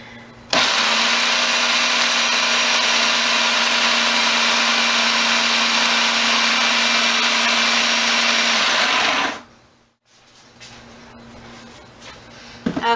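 A food processor grinds oats and walnuts in a steady, loud whirring roar that starts abruptly, runs unbroken for about nine seconds, then cuts off and spins down, followed by faint kitchen clatter.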